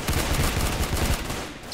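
Rapid gunfire in a shooter video game, dense and loud, with steady bursts of shots through the whole moment.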